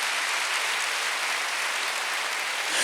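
A church congregation at a Sunday worship service claps together, a dense, even wash of applause heard from a distance throughout.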